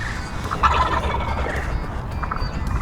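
A wild turkey gobbles once, a brief warbling burst near the start, over a steady low rumble of background noise.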